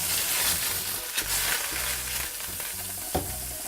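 Clarified butter melts in a frying pan for a cake batter, giving a steady, fairly loud crackling sizzle with a few sharp pops and scrapes, with no voices.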